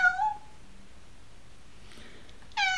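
A mistreated kitten gives two short, clear meows, one at the start and one near the end, with a quiet pause between them and no voices.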